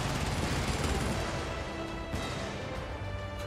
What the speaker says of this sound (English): Oh wait, never mind, they're shooting each other.